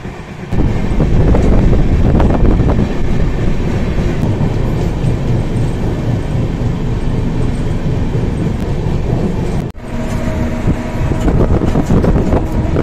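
The Doon Express on its run from Howrah to Haridwar rumbles loudly and steadily, its coaches rattling and clattering over the rails, with a brief dip and jolt near the end before the roar resumes.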